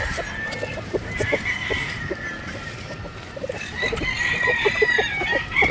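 Chickens on a game farm in Batangas cluck continuously in a busy, overlapping chorus, with many short, close calls over a steady background of farmyard noise.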